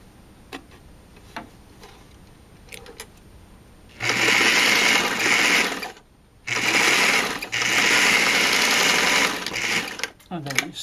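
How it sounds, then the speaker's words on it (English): Sewing machine stitching a seam on a simple tunic, running in two loud steady bursts of about two seconds each with a short pause between, preceded by a few faint clicks and handling sounds. "And then you sew until that spot."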